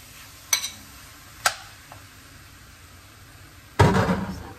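Ground pork for hardinera goes into a hot frying pan: a couple of light clinks of a utensil, then a loud, sudden sizzle that stays crackling and close as it fades.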